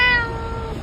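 An angry cat lets out a single loud, strained meow that starts sharp and bright, then drags out and fades into a rough, lower tail, heard close and alone.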